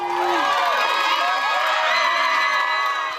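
A crowd of supporters cheers and whoops loudly right after a court verdict, sustained excited shouting filling the whole stretch.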